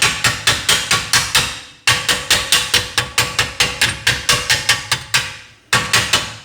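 A chipping rod knocks slag off a fresh weld during harvester repair work, giving rapid, sharp metallic taps in quick bursts of about six to eight strikes, separated by brief pauses, close and loud with no talking.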